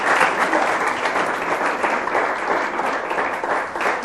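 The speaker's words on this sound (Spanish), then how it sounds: "Damos un fuerte aplauso a ese Dios que sabe hacer bien las cosas" A church congregation gives sustained, full applause that stays fairly even for several seconds, dense and close, with no voices above it.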